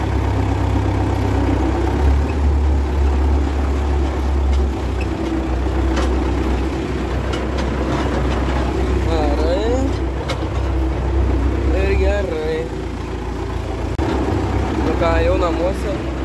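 A tractor engine drones steadily with a low, heavy rumble as it drives on a cattle farm. The sound is close and continuous, and people talk over it.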